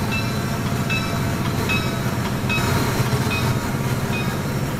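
An NJ Transit train running in the Trainz railroad simulator gives a steady, loud rolling rumble with faint rhythmic wheel clatter and metallic high tones throughout, with no talking.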